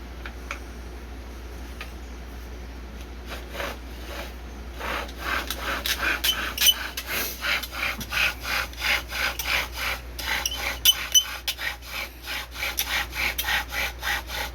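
A bow drill spins against a monkeypod (Samanea saman) wood board, giving a steady rhythmic rasping, back-and-forth scraping that starts faint and grows louder and more insistent as the strokes quicken.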